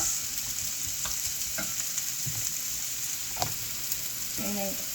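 Onion and tomato sautéing in a pan, a steady close sizzle with occasional spatula scrapes and clinks while the mixture is stirred.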